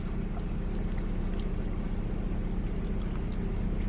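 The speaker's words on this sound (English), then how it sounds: "we're just gonna pour some water in there." Water is poured into a pot of noodles in a truck kitchen, a steady, soft, continuous splashing pour lasting several seconds with no talking.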